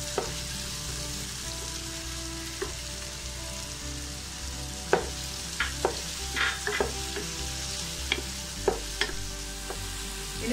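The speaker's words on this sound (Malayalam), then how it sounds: "ഇനിയിപ്പൊ നമുക്ക് ഈ ക്യാപ്സിക്കം ഇട്ട് കൊടുക്കാം." Capsicum and spring onion stir-frying for spaghetti in a pan: a constant close sizzle punctuated by scattered clicks and scrapes of a utensil stirring, with no talk.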